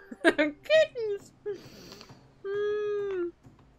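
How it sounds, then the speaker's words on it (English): Kittens meow in Final Fantasy XIV, a few short high mewing cries in quick succession followed by one longer drawn-out meow, fairly close and clear. "What do you want to name our kittens?"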